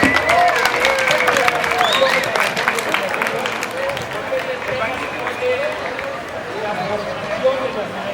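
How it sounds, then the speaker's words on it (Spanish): An outdoor crowd in Mexico City's Plaza de Santo Domingo applauds a speaker's introduction, sustained clapping and cheering from a large gathering with voices and chatter mixed in, easing slightly toward the end. "Un aplauso, por favor."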